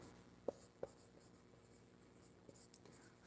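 Pen or chalk writing on a board during a Class 12 maths lesson, heard faintly: two sharp taps near the start, then soft, sparse scratching strokes with no talking.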